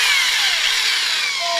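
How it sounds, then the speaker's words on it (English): A portable corded electric drill bores a hole through wood for a tool caddy, giving a loud, continuous high whine with grinding noise and a slowly falling pitch as the bit cuts through. "I'm going to go ahead and finish this with the portable electric drill."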